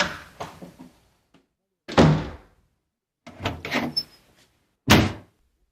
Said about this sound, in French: ouvre les portes du château.